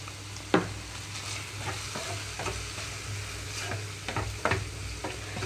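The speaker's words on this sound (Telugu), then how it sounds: "ముక్కంతా చక్కగా ఫ్రై అయ్యే వరకు ఉంచుకోవాలి ఇట్లానే లో ఫ్లేమ్లోనే ఉంచుతున్నానండి" Chopped tindora (ivy gourd) and tomato with salt and turmeric fry in a pan over a low flame, giving a steady close sizzle broken by several sharp scraping stirs.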